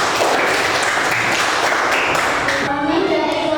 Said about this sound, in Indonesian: kasih aplaus yang meriah untuk kelompok 5